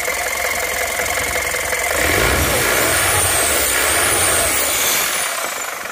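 Truck-type turbo engine with a fault, revved to about 2000 rpm and losing power, giving a loud, steady mechanical roar with a rising whine and knocking texture, heard up close for several seconds without talk.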